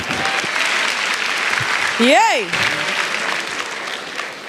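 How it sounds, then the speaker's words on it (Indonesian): A studio audience at an Indonesian stand-up comedy competition show claps steadily for a comedian, while a single voice calls out a drawn-out cheer partway through. "Tepuk tangan buat Jupri."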